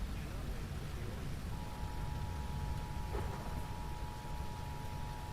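Rain in a storm-chasing video game with a tornado nearby, a dense steady hiss of downpour filling the scene at constant loudness, with a faint thin tone running through part of it.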